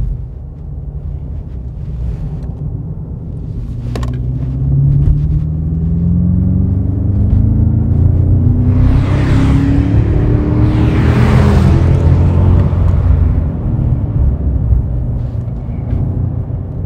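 A 2024 BMW M5 accelerates hard through a chain of fast bends, its engine building to a loud sustained roar with rising pitch sweeps, heard from inside over rumbling road and wind noise.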